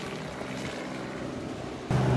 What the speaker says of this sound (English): I had the helicopter drop me into a spot that I'd been recommended.